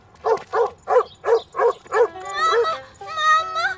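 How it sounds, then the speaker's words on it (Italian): A dog in a children's cartoon barks angrily at a beach, six sharp rhythmic barks up close followed by drawn-out whining yelps. "Quel cane sembrava arrabbiato."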